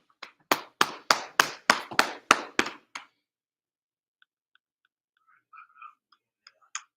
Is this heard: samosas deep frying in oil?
no